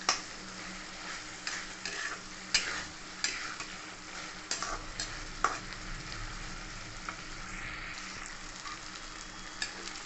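Potatoes and onions frying in fish oil, a Bengali chorchori, get stirred continuously in a pan. A soft, even sizzle carries sharp clinks and scrapes of the spoon against the pan, and no one speaks.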